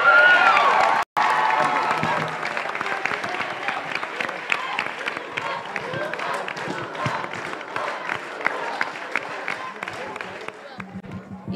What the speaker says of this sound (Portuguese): Quero mais uma salva de palmas.